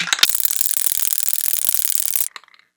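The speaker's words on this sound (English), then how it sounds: "you got to make sure that you shake this for at least a minute before you start putting it on the egg" A can of metallic gold Rust-Oleum spray paint is shaken hard, its mixing ball rattling in fast, even clicks for about two seconds before stopping abruptly.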